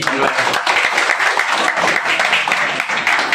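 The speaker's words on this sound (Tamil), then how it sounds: "இந்த 3 பேரை கைத்தட்டி" An audience at a church debate event applauds, a steady wash of fairly loud clapping with some voices mixed in throughout.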